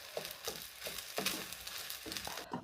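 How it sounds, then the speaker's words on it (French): Thai fried rice with shrimp, oyster sauce and fish sauce simmering and being stirred in a pan, with a steady sizzle and repeated scraping stirs recurring every half second or so, close and moderately loud, no voices. "Et on va mettre tout ça à mijoter gentiment en mélangeant bien pendant à peu"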